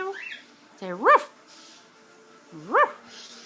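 A pet parrot mimics a dog's bark, producing two short, voiced yelping barks about a second and a half apart, close and fairly loud against a quiet room.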